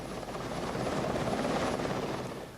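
A naval helicopter aboard the light aircraft carrier HMS Invincible gives a steady, loud rotor and engine roar that swells slightly and fades at the end, with no voices.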